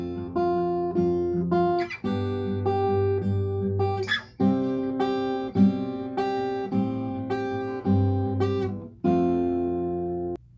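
Guitar plays the opening line of a song in a singer's style, clear chords strummed and changed in steady rhythm, close and loud, with no talking.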